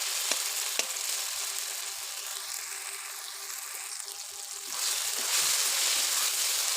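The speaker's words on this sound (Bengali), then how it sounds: "এখন সুন্দরভাবে আমি একদম ভেজে নিচ্ছি" Lote fish, also called Bombay duck, frying in a pan with a steady broadband sizzle throughout. The sizzle swells louder near the end, and a few faint clinks sound from the pan.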